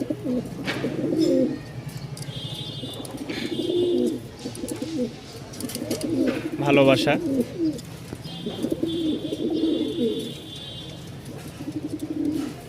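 Pigeons coo repeatedly in soft, throaty bursts close by, while a person speaks briefly over them.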